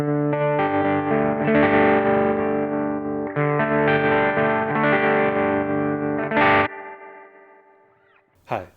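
Electric guitar chords through a BOSS FDR-1 Deluxe Reverb pedal with all effects on, vibrato and reverb together, loud and wobbling, ending in a decaying tail and a final short strum.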